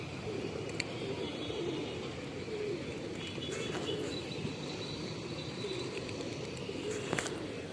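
Pigeons being fed grain coo softly in low, rolling calls over a steady outdoor hum, with a few faint chirps and brief clicks.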